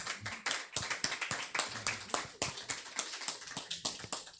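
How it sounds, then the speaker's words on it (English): An audience at a community listening session on California reparations claps in a steady, close burst of applause that continues throughout without fading. "Y'all can clap for that."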